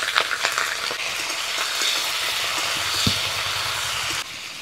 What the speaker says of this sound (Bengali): প্রথমে ফুলকপিগুলো ভেজে নেব। দিয়ে দেবো সামান্য পরিমাণ নুন আর হলুদ।